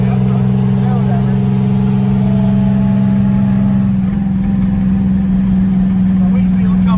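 International truck with a turbocharged Detroit Diesel 6-71 drives with a loud, steady close-up diesel drone whose pitch drops partway through as the driver downshifts; someone talks over it.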